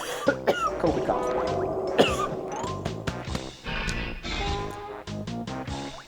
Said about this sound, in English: Hang on, guys, I gotta get this COVID cough.